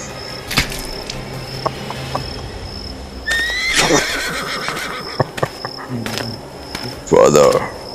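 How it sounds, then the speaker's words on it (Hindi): A horse neighs outdoors amid chirping insects, with a loud, close whinny near the end after scattered softer sounds and faint hoof-like knocks. "मेरे शाही घोड़े तुम्हारा ही इंतजार कर रहे हैं"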